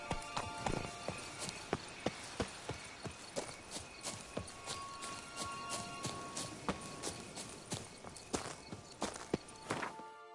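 Roach, a horse in The Witcher 3 (Blood and Wine), gallops with steady rhythmic hoof clip-clops, fairly close and clear, continuing throughout with no talk.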